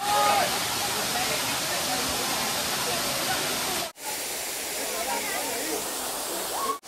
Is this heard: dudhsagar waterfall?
yes